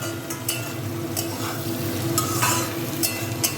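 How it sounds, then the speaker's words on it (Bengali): Spring onion greens, onion and capsicum fry in oil for chilli chicken while being stirred, a steady close sizzle broken by a few sharp scraping strokes of the spatula. "পেঁয়াজ পাতাগুলো ছেড়ে দিলাম, দিয়ে এবার নাড়িয়ে নিচ্ছি এরকমভাবে"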